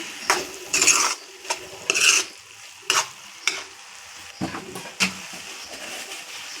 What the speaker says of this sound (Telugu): కొంచెం గరం మసాలా పొడి అండి బాగా కలుపుకుందామండి దీన్ని